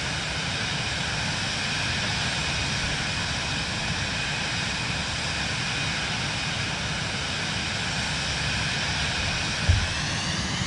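Steady broadband roar of a Cirrus Vision Jet G2 single-engine personal jet climbing in Microsoft Flight Simulator 2024, a constant smooth whine and rush with no variation and one soft thump near the end, no voices.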